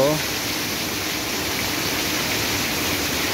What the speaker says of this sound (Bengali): দেখেন অনেক ঝড় বৃষ্টি হচ্ছে।